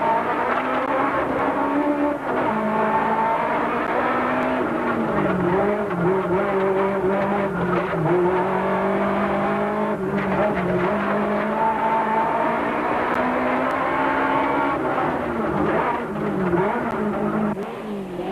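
Inside a 1992 Volkswagen rally car on a muddy forest stage of the Algoa Rally, the engine revs rise and fall continuously through tight twists and bends, loud and close, with no talk.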